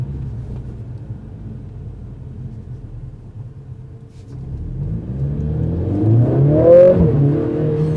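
A 2020 Mercedes CLA45 S AMG engine hums low and steady on a country road, then swells into a louder, rising acceleration growl near the end, with no talking.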